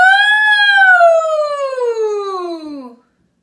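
A single voice imitates a siren as a singing warm-up, one sustained 'woo' that starts high and glides steadily downward for about three seconds before stopping, loud and close with no other sound.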